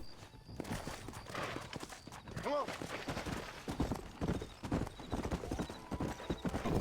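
Horse hooves clip-clop steadily in the Red Dead Redemption video game, a continuous rhythmic trot running through the clip with a brief whinny partway through.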